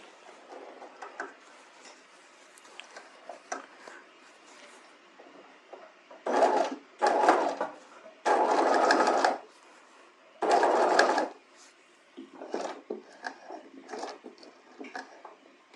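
A sewing machine stitches bias facing onto a bodice neckline in several short bursts of whirring, with quiet clicks and handling of fabric between runs.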